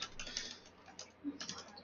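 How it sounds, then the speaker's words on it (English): Someone typing a short phrase on a computer keyboard, close and quiet, with scattered key clicks in small bursts and brief pauses between them. "I'm just going to type in here, welcome to my site."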